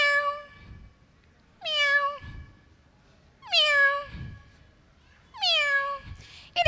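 A human voice imitates a kitten, producing four drawn-out meows with clear pauses between them, each swooping down in pitch, close and loud, part of a mimicry performance at the Kerala school arts festival.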